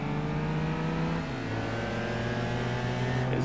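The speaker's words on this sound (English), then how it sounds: "Oh, the Audi just took off." An Audi race car accelerating hard in Gran Turismo 4, a steady loud engine drone with rising whining harmonics as it pulls away, continuous with no talk.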